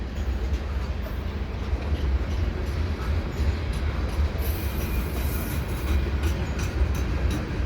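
Two back-to-back SD70M-2 locomotives haul a mixed freight train under the Dorval ramp, producing a loud, steady, close rumble with continuous rail and wheel clatter throughout, and no voices.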